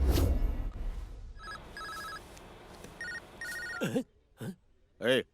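A mobile phone rings with bursts of a bright electronic ringtone, with two quick pulses repeated, in an indoor film scene. Muffled voices and rustling surround it, and a few short vocal sounds follow near the end.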